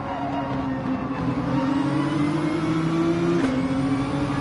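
A race car in a racing video game on the Dragon Trail circuit drones loudly at steady high revs, its engine pitch rising gradually before a brief dip as it brakes, continuous and close.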